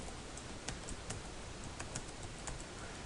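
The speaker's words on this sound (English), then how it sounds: "You'll type in your email address" Keys tapped on a computer keyboard as an email address goes into a login window, a steady run of light clicks over a faint hiss, no voices.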